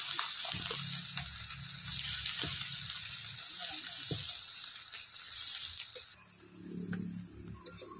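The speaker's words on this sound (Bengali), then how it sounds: "পেঁয়াজ আর আদাটা একটু ভালো করে ভেজে নেব।" Chopped onion and ginger sizzle steadily in hot oil in a pan, a continuous bright frying hiss with faint clinks of stirring, dropping in intensity near the end.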